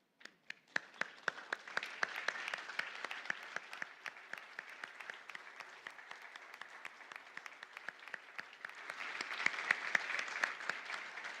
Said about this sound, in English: we clap for you, and in those claps is our love